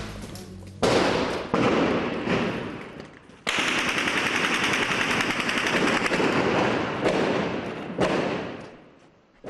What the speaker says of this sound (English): there's firing over this side as well